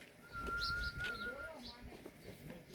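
Soft, low pigeon cooing close by, with a brief chirp and a steady high whistle-like tone over quiet background rustle.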